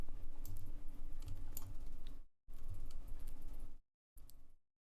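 Typing on a computer keyboard during a live Nintendo Direct watch stream, a dense run of quick clicks in two bursts with a gap and a short final flurry, close and fairly quiet with no talking.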